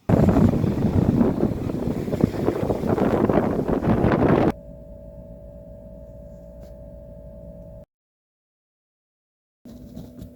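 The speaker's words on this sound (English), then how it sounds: "although it's very windy" Strong wind near a beach buffets the microphone in heavy, uneven gusts for about four seconds, then cuts to a low steady hum and a stretch of near silence.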